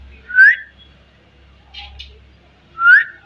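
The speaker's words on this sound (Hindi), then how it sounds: "वो सोच रहा है सीटी कौन बजा रहे।" A person whistles to a pet dog, giving two short, clear rising whistles about two and a half seconds apart, close by, with a faint voice murmuring briefly between them.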